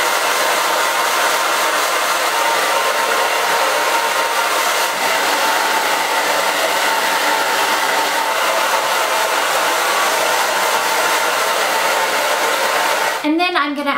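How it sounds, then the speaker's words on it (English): A hair dryer blasts continuously while blow-drying hair, a loud steady roar that cuts off abruptly at the very end. "flip my hair over, just dry it crazily"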